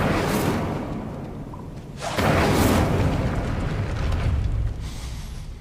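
A fire spell cast in Hogwarts Legacy, heard as a loud whooshing burst of flame that swells abruptly partway through and roars on steadily before easing off, with no voices.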